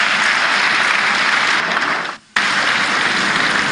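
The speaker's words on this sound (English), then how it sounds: "give the chairman a round of applause" Audience applause for the chairman at the North-East Climate Summit in Gombe: loud, dense clapping fills the room, breaking off briefly for a moment before resuming at full strength.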